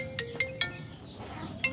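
An incoming-call phone ringtone in a Sundanese household, a few short repeated tonal beeps in a bright pattern, moderately quiet over a faint room background with no talking.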